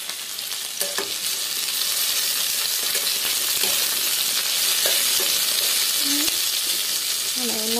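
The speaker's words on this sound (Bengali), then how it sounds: "পটল ভাজার জন্য দেওয়া হয়ে গেছে" Pointed gourd (potol) frying in a pan with potatoes, giving a steady, close sizzle throughout, with a few scattered clicks and scrapes and brief squeaky tones near the end.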